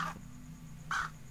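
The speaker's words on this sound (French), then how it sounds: "Ah, donc voilà notre corbeau." A crow in the video game Anna's Quest caws twice, one harsh call at the start and another about a second later, fairly clear over a low steady hum.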